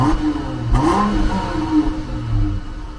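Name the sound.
Cummins 12-valve diesel engine revving in shop truck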